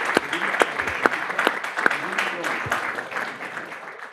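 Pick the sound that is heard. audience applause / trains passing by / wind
audience applause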